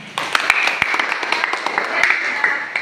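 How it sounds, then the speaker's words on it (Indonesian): A class applauding a classmate in a catechism lesson, a short burst of close, uneven hand claps with sharp individual slaps standing out over a talking voice. "Silakan tepuk tangan buat Ben."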